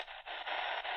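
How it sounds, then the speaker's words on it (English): AM band reception on a Majority Belford Go portable radio gives a steady, hissy wash of static-laden broadcast sound with brief dips, fairly faint and without clear speech. "Let's go to the AM band on here and just hear what we can pick up on this thing and how it sounds."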